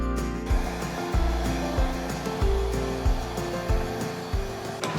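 A hair dryer blows steadily over poured acrylic paint with black, white and rainbow colours, a loud continuous whir that rises and dips rhythmically about once a second as the airflow sweeps across the surface.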